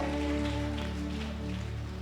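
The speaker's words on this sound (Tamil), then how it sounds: "மழையை கொடுத்ததற்காக நன்றி." Rain falls steadily throughout a Sunday church service, a continuous broadband hiss with sustained keyboard or organ tones held underneath and no break.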